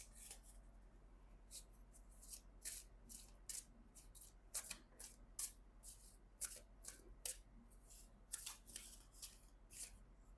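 Tarot cards are shuffled by hand at close range, quiet rhythmic riffling and slapping bursts repeating over a soft background hum, with no talking.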